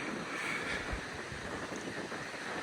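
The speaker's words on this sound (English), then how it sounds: "the wind picks up a bit, the breeze is delightful" Wind blows on a coastal walk at Cap Salou, a steady rushing buffet against the microphone that stays fairly soft and unbroken the whole time.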